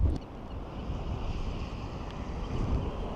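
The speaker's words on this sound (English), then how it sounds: "So this is more than hurricane wind gust, or it is a hurricane wind gust." Hurricane-force wind gusting at about 180 km/h during a June snowstorm in Iceland, a steady loud roar of wind buffeting the microphone with rushing broadband noise throughout, no voices.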